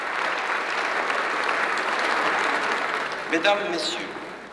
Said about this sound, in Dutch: Applaus wanneer VDB in 85 het parlement vaarwel zegt.